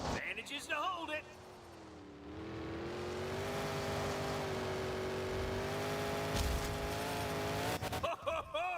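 A monster truck engine at a Monster Jam arena event growls in a long, sustained, rising rev that dominates the middle stretch, with excited commentary and crowd noise before and after.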